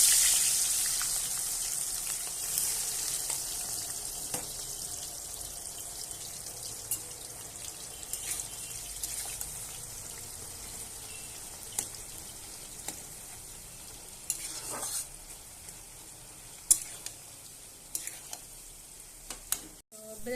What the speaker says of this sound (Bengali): এবার আমি বেরেস্তা ভেজে নেব।